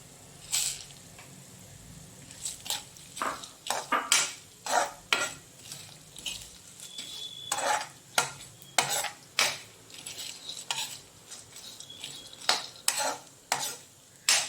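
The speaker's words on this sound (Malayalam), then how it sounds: "ഒരു ടേബിൾ സ്പൂൺ നെയ്യിലാണ് ഇതെല്ലാം നമ്മൾ റോസ്റ്റ് ചെയ്തെടുക്കുന്നത്" Pumpkin seeds roast in a tablespoon of ghee in a pan. A spoon scrapes and stirs them in an uneven run of sharp clatters and scrapes over a soft sizzle, with a few seeds beginning to pop.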